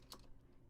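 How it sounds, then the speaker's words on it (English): Clacky keystrokes on a loud computer keyboard, a short burst of presses near the start that tapers into a faint, quiet background. "my keyboard's very loud"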